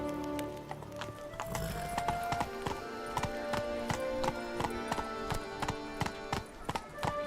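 The horse Roach gallops in The Witcher 3: Blood and Wine, with rhythmic hoofbeats clip-clopping steadily and close throughout, layered over game music and ambience.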